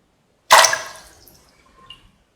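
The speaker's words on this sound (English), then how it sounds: "put in the chickpeas which we have soaked overnight into the water" Soaked chickpeas are dropped into about a liter of water, making one sharp splash and patter that fades over about a second, followed by a small late drip, with no talk.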